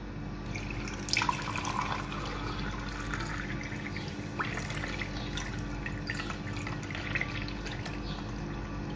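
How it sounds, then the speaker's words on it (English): Water pours steadily from a fountain spout and swirls downward, a continuous close splashing and trickling with brief drip-like accents, with no talk over it. "the water that comes out, they come in swirling down"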